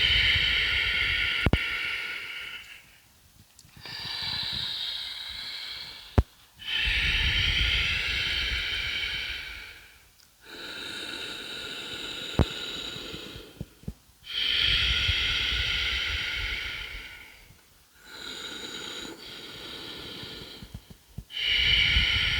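Slow, deep yoga breathing during a guided session, drawn into the right hip: long, hissing inhales and exhales alternate in a steady cycle of about four seconds, close and alone, with short silent pauses between breaths.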